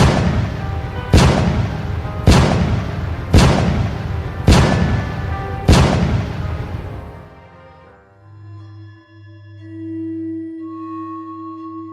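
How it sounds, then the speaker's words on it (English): Six heavy distant cannon shots fire at a steady, roughly one-second interval, each trailing a long rolling echo, followed by a quiet low electronic hum. "6 cannon shots can be heard in the distance."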